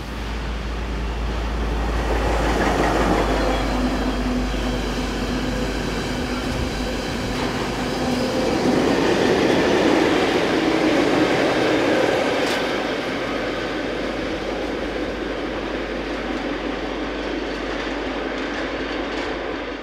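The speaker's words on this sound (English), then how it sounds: "Right behind, this is North Rail's 1261302 on train DGS 98568 from Köln Eiffeltor to Marl." North Rail locomotive 1261302 hauling freight train DGS 98568 from Köln Eifeltor to Marl rolls past in a long, loud, steady roar of wheels and wagons, with faint rhythmic clatter and no talk.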